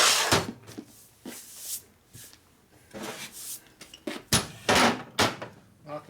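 Hammer blows knocking new valve guides into a 1981 Harley-Davidson Sportster XLCH 1000cc ironhead cylinder head, a series of sharp, irregular metallic strikes at close range in a workshop.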